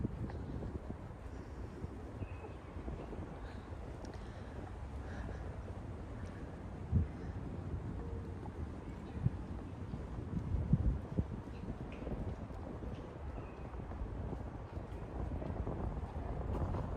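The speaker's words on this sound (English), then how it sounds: "It is windy" Steady outdoor wind rumble buffeting the microphone throughout, with a few faint knocks and distant noises mixed in.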